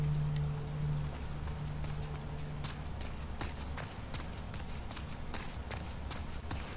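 Horse hooves clip-clop at a steady walking rhythm in The Last of Us Part II game, a string of moderate, fairly near thuds over low ambience, with no talk.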